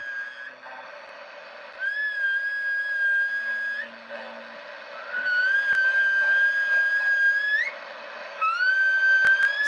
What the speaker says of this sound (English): Somebody's whistling out their culo.